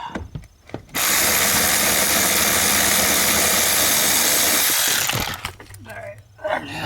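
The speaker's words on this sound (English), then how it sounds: "I'll go ahead and take this out with my electric tool here." An electric power tool, likely an impact driver or drill, zips out a rack and pinion bolt on a 2012 Nissan Juke AWD 1.6 CVT, a loud continuous whir lasting about four seconds, with brief clatter and quiet talk before and after.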